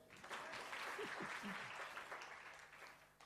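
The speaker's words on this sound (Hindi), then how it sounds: "ताली बजा दो" Audience clapping at a Jain religious gathering with a monk present, a broad steady patter of many hands filling the room, with faint voices and murmurs mixed underneath before it tapers off.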